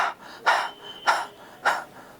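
Someone narrator imitates panting with three quick, forceful breathy gasps spaced about half a second apart, close and clear with no words spoken.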